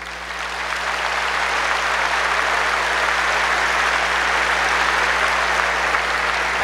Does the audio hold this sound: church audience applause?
yes